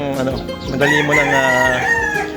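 A loud, close rooster crow rings out in one long drawn-out call, with other fowl faintly in the background.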